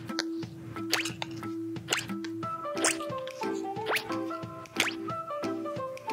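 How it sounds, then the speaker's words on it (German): Water is poured and dribbled for a Baby Born toy doll, giving a string of small drips and plops with some gurgling, close and fairly quiet, with faint tonal sounds in the background. "Ein bisschen Wasser"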